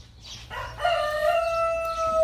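A rooster crows in the daytime, one long drawn-out call close by, rising and holding steady with faint ambient noise behind it.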